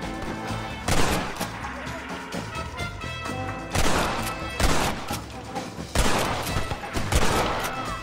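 Repeated bursts of gunfire from Red Dead Redemption, loud volleys clustered around several moments with a cluttered game-sound bed between them, roughly every second or two.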